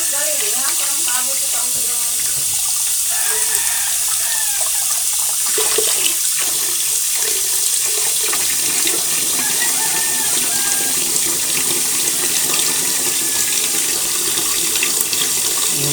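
Water runs steadily from a household tap, the flow turning out milky white, a continuous close hiss and splash with people talking over it.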